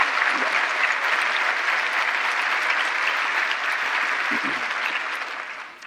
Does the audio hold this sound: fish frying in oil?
no